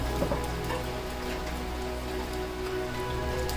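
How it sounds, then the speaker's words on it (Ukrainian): Heavy rain pours steadily onto a surface outdoors, a dense continuous patter of drops at moderate loudness with a faint low hum underneath and no talking. "зараз оце ліпаше дощ"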